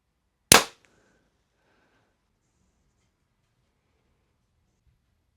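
A single sharp, loud crack as a Hoyt Carbon RX9 compound bow is fired, the snap dying off fast into near silence with only a faint rattle afterward.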